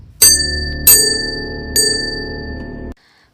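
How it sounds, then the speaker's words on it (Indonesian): A bell is struck three times, each loud metallic clang ringing out and decaying, the last strike slightly softer before the sound cuts off. "Contoh bunyi buatan yang selanjutnya ada lonceng."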